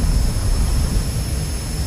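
MB-339 jet trainer taking off in DCS World, a loud steady jet engine roar with a constant high whine, close and continuous with no talk.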